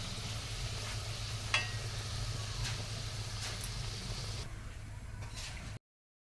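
Spinach luchi deep-frying in hot oil, a steady close sizzle with a low bubbling hum and a few faint clicks, no voices, cutting off abruptly near the end.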